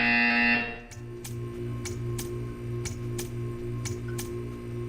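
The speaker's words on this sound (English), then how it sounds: "When you hear the buzzer, stare at the art." A loud electronic buzzer in a video game blares for about half a second, then gives way to a steady hum marked by a series of faint, evenly spaced ticks.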